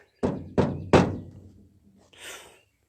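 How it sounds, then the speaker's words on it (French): Three sharp, evenly spaced knocks strike a wooden door close by, each ringing briefly, followed by a short softer scuffing rustle. "toque à la porte."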